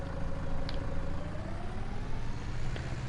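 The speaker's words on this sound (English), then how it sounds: "I love how quickly these tractors turn with their four-wheel steering." A steady low drone from a four-wheel-steering tractor engine in Farming Simulator on the Alpine Erlengrat map, running evenly and fairly loud with a couple of faint ticks.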